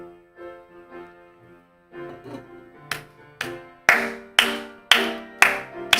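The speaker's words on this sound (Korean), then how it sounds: "우리 박수치며 찬양하겠습니다" A church congregation claps along to a worship song: soft sustained instrumental music plays first, then loud, sharp unison claps land on the beat about twice per second.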